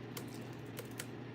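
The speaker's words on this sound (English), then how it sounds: "Typing." Typing on a computer keyboard: three or four quick, light key clicks spaced irregularly over a soft constant background hum, close but quiet, with no talking.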